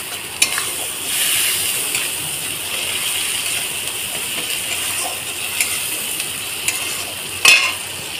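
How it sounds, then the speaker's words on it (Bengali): Tomato and spices for an egg curry stir and fry in a pan, a steady close sizzle with scraping spatula strokes and a few sharper clinks, with no talking. "এখানে অল্প সামান্য জল দিয়ে দেবো, দিয়ে মশলাটাকে ভালো করে কষিয়ে নেব।"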